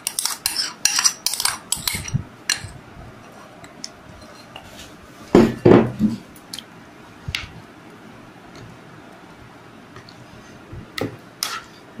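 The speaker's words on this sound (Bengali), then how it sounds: "এবার আমি ননস্টিক কড়ার মধ্যে সবগুলো মিশিয়ে দেব।" Hilsa fish pieces being mixed with spice paste in a nonstick pan, heard as clustered clinks and scrapes of a utensil early on, a louder squishy burst in the middle, then sparse soft taps; no talking.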